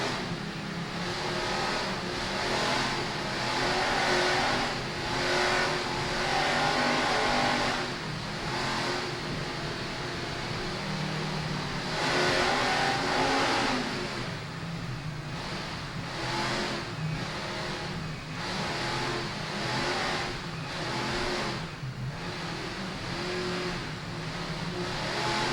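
Offshore race boat engines roar continuously at a world championship race in Key West, Florida, loud and rough with a pulsing, rising-and-falling drone and no voices.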